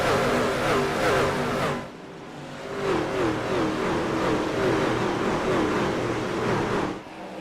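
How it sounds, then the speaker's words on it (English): Race truck engines roar continuously at Richmond in the iRacing game, a dense, loud mechanical drone that dips briefly and then surges back, with no talking. "Engines roaring here at Richmond."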